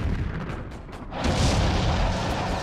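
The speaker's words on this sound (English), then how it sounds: "They used the artillery in that fort to harass the Americans struggling to capture the city of Metz." Big German guns at Fort Driant near Metz firing artillery, a deep rumbling boom swelling into a sustained, reverberant roar after a quieter, muffled stretch of distant thuds.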